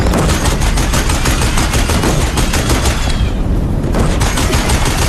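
Deathbringer machine guns fire relentlessly in Horizon Zero Dawn, a loud, dense barrage of rapid gunfire with booming impacts that goes on without a break, briefly thinning near the end.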